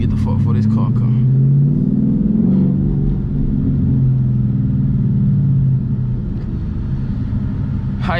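A car passes on a back road while a Mustang GT idles and rumbles steadily up close, its low engine drone filling the scene beneath someone talking.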